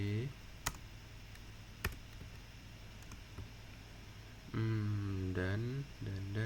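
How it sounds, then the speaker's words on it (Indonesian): Sparse clicking of computer keyboard keys, a few isolated keystrokes over a steady background hum, followed by a person speaking. "Kenapa ngetik ulang ya?"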